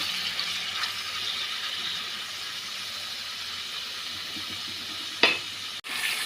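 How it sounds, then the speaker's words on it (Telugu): Liver frying in oil over a low flame: a steady soft sizzle that carries on throughout, close by, with one sharp clink near the end and no voices. "ఈ లివర్ని సిమ్లో పెట్టుకుని ఫ్రై చేసుకున్నామండి"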